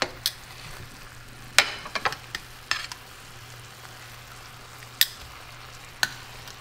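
A pork chop with fig sauce fries quietly in a pan, a soft steady sizzle broken by scattered clinks and scrapes of stirring.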